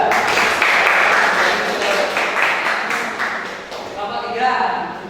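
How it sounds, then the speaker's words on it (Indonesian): A classroom of students claps for a group after a lesson on using a vernier caliper, a dense patter of hands lasting several seconds, loud and close, fading and swelling slightly toward the end. "Ini kasih tepuk tangan untuk kelompok 2."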